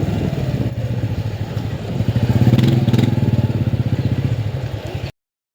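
A motorcycle engine runs steadily nearby with a rhythmic pulsing idle, briefly revving louder partway through before settling, then cutting off abruptly at the end.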